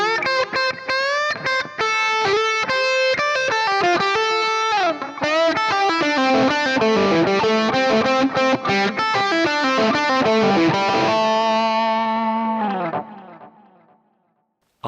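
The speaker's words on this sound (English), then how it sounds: "we have our Plexi 50 watt running into our pair of" Electric guitar lead through a Plexi 50 watt amp into a pair of 1960 Marshall cabs, crunchy sustained notes and quick phrases played loud and solo, ending with a long held note that cuts off.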